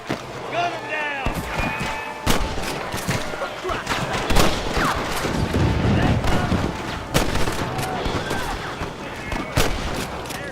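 Rapid Western gunfire in the Red Dead Redemption video game, a dense fusillade of sharp shots cracking repeatedly and loudly amid galloping hooves and shouting voices.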